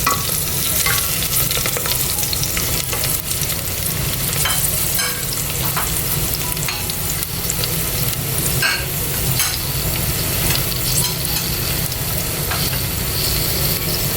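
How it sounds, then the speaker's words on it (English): Split green chilies frying and stirred in a pan for keto mutton biryani, giving a loud, steady, close sizzle that runs throughout with scattered clicks and scrapes from the spoon. "Now I'm going to be adding the split green chilies."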